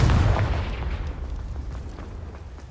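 A deep, rumbling magical blast from the Confringo fire spell in Hogwarts Legacy booms at the start and then fades slowly into a lingering low roar, with no voices over it.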